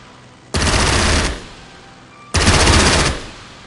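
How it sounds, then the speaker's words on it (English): Aircraft strafing runs in the wartime strategy game Strategic Mind Blitzkrieg: two loud, dense bursts of rapid machine-gun fire, each lasting under a second, separated by a short pause. "Ready for strafing run."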